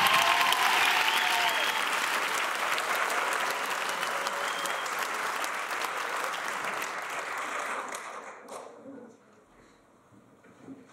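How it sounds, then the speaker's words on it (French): Loud, enthusiastic applause from a theater audience after a short staged comedy sketch, holding steady for about eight seconds before fading quickly into near quiet. "On les applaudit bien fort!"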